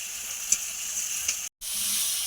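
Onion, garlic and tomato fry in a pan for a Bengali fish-head muri ghonto, giving a steady, close hiss of sizzling with a couple of faint ticks and a brief gap of silence partway through.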